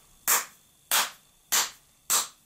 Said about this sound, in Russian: Я не знаю, громко я хлопаю или нет.